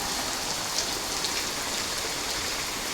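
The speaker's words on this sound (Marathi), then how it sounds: "तर पाऊस पडतोय बरा" Rain falling steadily outdoors, a dense, even patter of drops on surfaces that holds at a constant level throughout.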